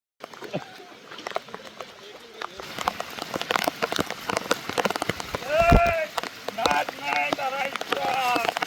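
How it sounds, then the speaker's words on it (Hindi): Heavy rain patters steadily on surfaces throughout, with scattered drips and splashes, while people talk intermittently over it, on a trail in the Sahyadri hills. "आज दोस्तों बहुत ज़्यादा बारिश शुरू है"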